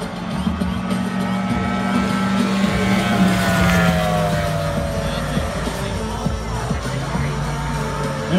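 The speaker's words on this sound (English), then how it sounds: "You're going to hear this boat long before you see it." A Mercury Racing race boat powered by a 300 horsepower Mercury outboard engine passes at a show, its loud, high-pitched engine whine shifting in pitch as it approaches and goes by, with wind noise and no talk.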